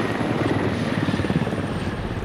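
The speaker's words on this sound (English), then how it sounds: "Chopper coming over this lake." A military helicopter in the video game Squad flies over a lake on the Goose Bay map, its rotor beating in a loud, dense, rhythmic chop with a steady engine roar throughout and no voices.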